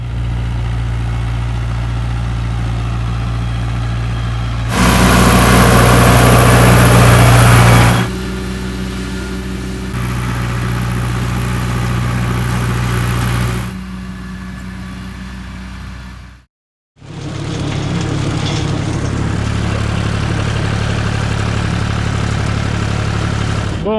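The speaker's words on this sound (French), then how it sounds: "On a attelé le gyro au petit tracteur." A small farm tractor with a rotary mower hitched runs steadily at idle, its low engine drone continuous and fairly loud, with a brief rise in revs midway and a short drop-out near the end.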